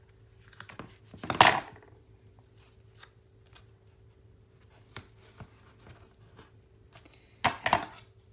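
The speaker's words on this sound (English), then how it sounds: "Oh, these scissors are sticky." Sticky scissors cut paper for a mini album in a scrapbooking craft session, giving two crisp, close snipping bursts several seconds apart with faint handling rustles between, over a low steady hum.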